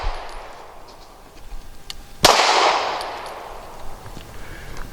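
A single sharp Walther P99AS pistol shot cracks at a shooting range, followed by a ringing decay and faint metallic pings from a moving steel target, with quieter outdoor noise before and after.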